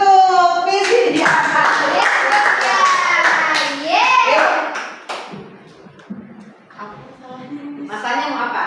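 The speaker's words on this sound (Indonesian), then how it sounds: "Tepuk tangan untuk Miss Lydia" Classroom of children clapping for their teacher, sharp rhythmic claps mixed with excited kids' voices and shouts, dropping to quieter chatter midway before voices rise again.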